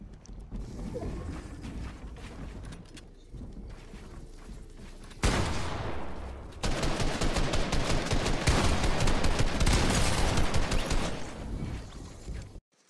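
Sniper shots in Fortnite, sharp gunfire cracks over a busy background of game sounds, with a burst of dense, loud firing and mechanical clatter in the second half.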